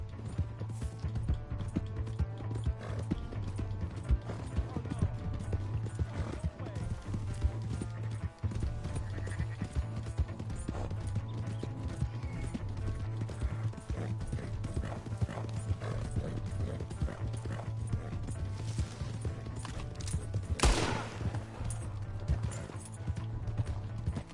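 Hooves of a horse galloping in a PS4 video game beat a steady, fast clip-clop rhythm throughout, with a brief whinny near the end over low game music.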